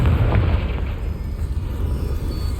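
A Confringo blasting-spell explosion in Hogwarts Legacy hits with a loud, deep boom right at the start, then rolls off into a rumbling tail.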